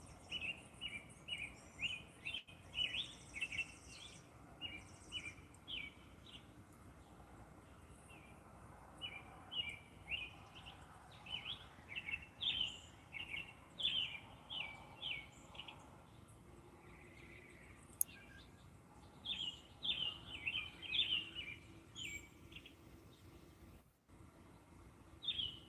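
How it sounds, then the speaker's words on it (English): Birds chirp outdoors on a morning, quick bursts of high tweets repeating in clusters over a steady background hiss, fairly close and continuing throughout with a short pause near the end. "the birds are flying pretty close"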